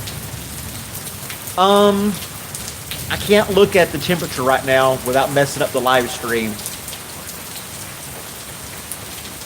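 Steady rain falls outdoors as a broad, constant hiss beneath someone talking close by through most of the stretch.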